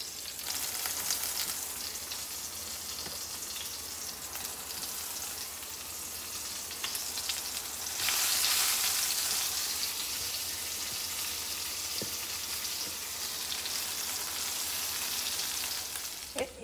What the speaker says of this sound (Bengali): বাগানের বেগুন, তো একটা একটা করে জাস্ট ভেজে নিচ্ছি